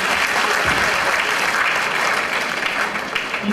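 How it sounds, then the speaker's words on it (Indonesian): Audience clapping at a corporate presentation, a dense burst of applause from a seated crowd that holds steady and close for a few seconds before tapering slightly. "Ya, tepuk tangan lagi."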